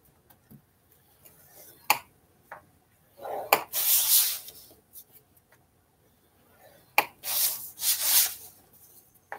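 A scoring tool drags across card paper an inch from the edge in several short scraping strokes, close and crisp, separated by quiet gaps and small taps.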